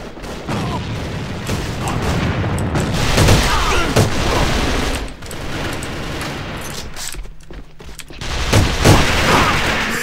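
A grenade throw and explosion amid gunfire in the AVA online shooter, a loud sustained barrage of shots with heavy booming bursts, close and continuous.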